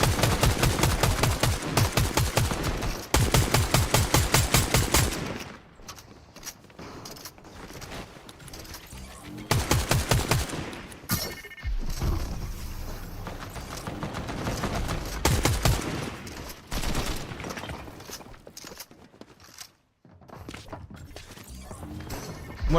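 Rapid bursts of gunfire from the Fortnite video game during a competitive FNCS grand finals match, dense volleys of shots loud and close, separated by brief quieter stretches.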